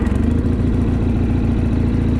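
Kohler-powered John Deere 318 lawn tractor engine running steadily up close, a loud, continuous low throb with a rough, vibrating pulse and no talking.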